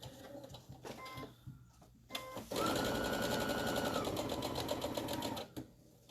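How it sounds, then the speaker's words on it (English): A sewing machine runs in a fast, steady mechanical whir as it stitches an attic window quilt block, starting after a few soft handling clicks and stopping abruptly near the end, close and fairly loud. "while I'm doing this bit of stitching"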